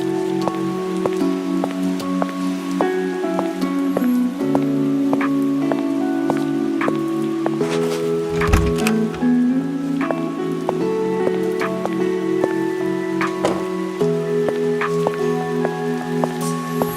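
Steady patter of rain in the Roblox game Berry Avenue, falling continuously over soft background music for the whole stretch, with no voices.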